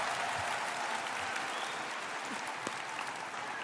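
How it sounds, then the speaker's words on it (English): Audience applause fills the hall at the opening ceremony of a national science tournament, a steady dense wash of clapping at a constant level from start to finish, with faint crowd murmur underneath. "Let's get a round of applause."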